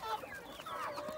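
Hens cluck softly in a backyard coop near their laying spot, a short, faint run of calls with no talking.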